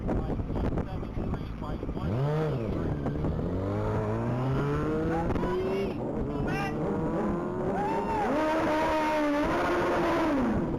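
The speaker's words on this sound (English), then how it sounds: "Currently taking off the line is going to be vehicle 173." A race car accelerates hard off the line at the Texas Mile top-speed event, its engine note climbing and falling through several gear changes, loud and steady, with wind buffeting the microphone and a voice talking over it.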